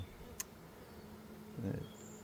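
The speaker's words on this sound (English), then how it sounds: "the bees are, of course, clustering on the outside there, bearding" A faint, steady buzz of honeybees bearding on the outside of a backyard hive, droning in the background, with a single short click early on.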